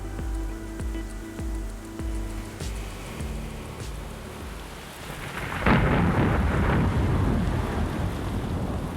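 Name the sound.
thunderstorm with torrential rain over the Pacific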